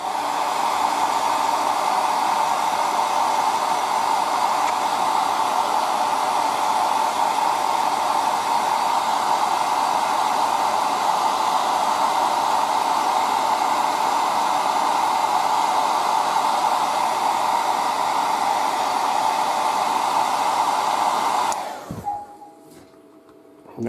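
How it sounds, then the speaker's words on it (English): An air dryer blows steadily to dry paint on a Predator miniature, a loud, continuous rushing hiss lasting about twenty seconds before cutting off abruptly. "So just use my air dryer."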